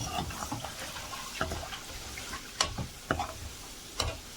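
Crackling sizzle of spices tempering in hot oil for Himachali kadhi, with kasuri methi added, a few sharp spitting pops and clinks over a steady hiss.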